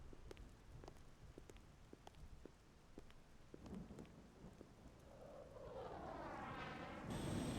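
Thunderstorm in the Xenoblade Chronicles X game while flying: steady rain patter with scattered drops, then a long rolling thunder rumble that swells louder toward the end.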